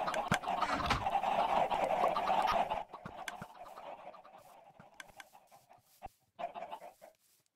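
Chickens cluck in the Minecraft video game, a dense, loud flock of clucks and squawks for about three seconds, then quieter scattered clucks with a short louder burst near the end.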